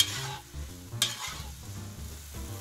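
Funchoza glass noodles stirred in a kazan cooking over a campfire outdoors, soft sizzling with several close scraping stirs and one sharp clink, fairly quiet, no talking.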